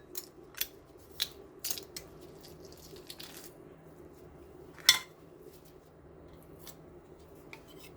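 Garlic cloves smashed on a kitchen board while preparing chard lentil soup: a few scattered sharp knocks, then one loud, close thump partway through, with quiet kitchen background between.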